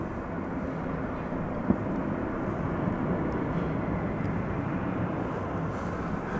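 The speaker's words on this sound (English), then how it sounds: "This is American Flight 767, which is a 747 aircraft." A steady, even roar from a Boeing 747 jet at DFW Airport at night holds at the same level throughout, with one brief faint tick partway through.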